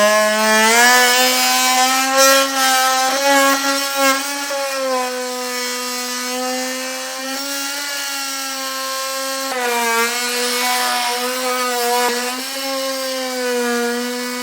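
A power tool cuts through a plastic panel on a 2024 Ford during a base plate installation, giving a loud, continuous buzzing whine close by that wavers slightly in pitch throughout, with no speech.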